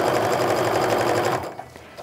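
A sewing machine chain-pieces fabric for a quilted snowflake mug rug, a fast steady whirr of stitching close by that stops after about a second and a half, then a few faint clicks.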